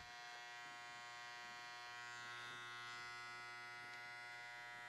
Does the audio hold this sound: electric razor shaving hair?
yes